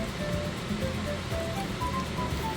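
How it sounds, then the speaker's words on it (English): Water poured into a pan while cooking mapo tofu, a steady rushing, splashing wash that runs loud and continuous throughout with no talk. "And then next thing is add some water."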